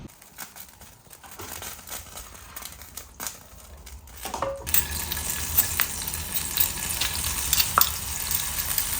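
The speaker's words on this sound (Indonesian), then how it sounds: "Sambalnya guys kita goreng 2 menit" Chili sambal with shrimp paste fries, sizzling and crackling, quieter at first, then growing louder and steady after a few seconds, with faint stirring scrapes.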